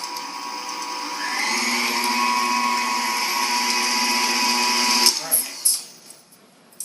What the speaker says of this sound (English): with the mixer running